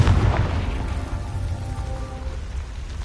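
Confringo fire spell from Hogwarts Legacy, heard as a sustained loud blast-like rumble with deep low-end booming that fades slightly over three seconds.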